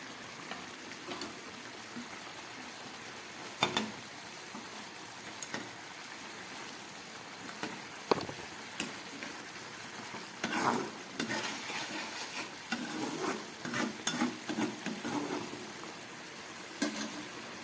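Fish curry gravy boiling in a pan, a soft steady bubbling and sizzling with occasional stirring clinks and scrapes, close and fairly quiet, with no voices.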